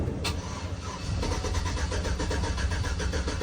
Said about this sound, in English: so the car should start